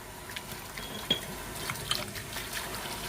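Water is poured over a knife blade after rust removal, giving a steady, faint splashing trickle with a few small drips and no talking.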